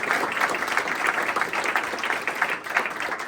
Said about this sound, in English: So big applause to them.